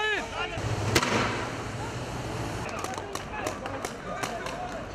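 Riot police firing plastic bullets and tear gas at a street protest against a constitutional amendment in Ankara, with a sharp loud bang followed by scattered pops and crowd noise, while a voice talks over it.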